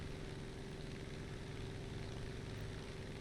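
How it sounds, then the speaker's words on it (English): A propeller-driven warplane in War Thunder with its engine speed climbing again after being cut, a steady, even drone that fills the clip at moderate level with no talk. "Pick the engine speed back up."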